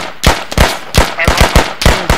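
Rapid, loud bursts of video-game gunfire in a multiplayer shooter match, about eight sharp close shots cracking in quick succession with no pause between them.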